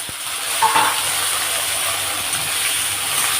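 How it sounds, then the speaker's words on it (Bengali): Brinjal pieces frying in hot oil in a kadai, a steady broad sizzle and hiss running throughout with a brief louder spurt near the start, close and fairly loud with no talking. "তেল গরম হয়ে গেছে, এবার আমি বেগুনগুলো দিয়ে দেবো।"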